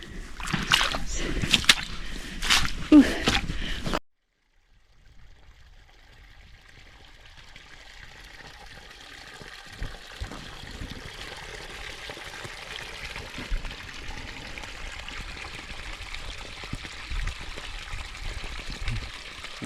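Water running through a small hand-dug channel on a flooded farm in central Portugal, a soft continuous trickling flow after an abrupt louder burst at the start, steady and fairly close.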